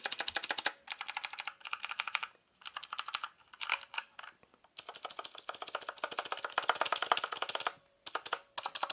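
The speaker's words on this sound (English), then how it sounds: "let's go ahead and hit the keys as well, just to give you an idea of the actuation and the response" Keys clatter on an EasySMX mechanical gaming keyboard in quick, crisp bursts of clicky keystrokes, close and loud, separated by brief pauses, with no talking.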